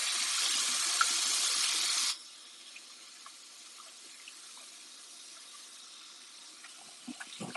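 Cold tap water running steadily over soaked soya chunks in a kitchen sink, a loud even rush for about two seconds, then it cuts off, leaving faint drips and small handling clicks.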